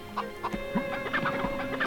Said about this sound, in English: Let's herd chickens.